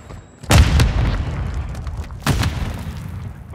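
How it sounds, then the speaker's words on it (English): A Semtex sticky grenade detonates in Call of Duty: Modern Warfare 2 multiplayer with a loud, close boom. A second, slightly softer blast follows about two seconds later, and both roll out over low rumbling game noise. "Throwing Simtex!"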